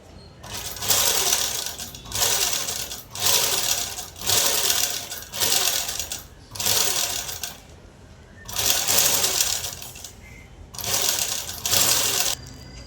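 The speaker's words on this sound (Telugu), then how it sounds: "ఇలా పైకుట్టు అనేది వేసేసుకోవాలి" A sewing machine top-stitching a long frock runs in repeated bursts of about a second each, its needle whirring steadily then pausing briefly between runs, close and alone.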